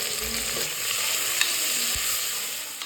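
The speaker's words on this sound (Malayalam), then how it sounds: "അതിലേക്ക് എണ്ണയും ഒഴിച്ച് വെളുത്തുള്ളിയും സവോളയും കൊച്ചുള്ളിയൊക്കെ ഇട്ട് കൊടുത്തിട്ടുണ്ട്." Garlic, onions and shallots fry in oil inside a pressure cooker with a steady, close sizzle, broken by light stirring scrapes and no talking.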